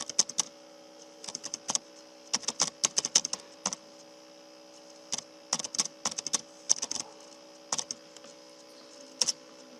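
Keys clack on a computer keyboard in irregular bursts of quick taps separated by short pauses, close and fairly quiet against a faint steady background hum.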